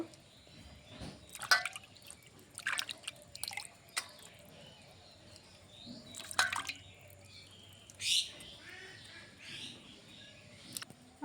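Water drips and splashes intermittently while fish is washed by hand in a kitchen, faint scattered drops and small splashes close by in an otherwise quiet room.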